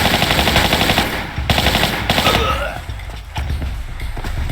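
Rapid automatic gunfire in Tomb Raider III, a loud continuous rattle of shots that briefly breaks and then resumes, with no talking.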